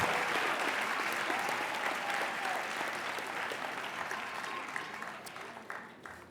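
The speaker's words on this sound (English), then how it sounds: "I think we should give her a round of applause just for reading those names." Sustained applause from an audience at a Dean's List ceremony, dense steady clapping that fills the room and slowly tapers over several seconds.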